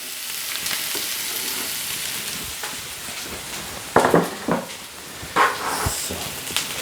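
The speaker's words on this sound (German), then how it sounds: "Das hört man schon, wie es brutzelt." Red onions and chili sizzle steadily in a frying pan, a continuous crackling fry with louder bursts of stirring and spatula scrapes partway through; no one speaks.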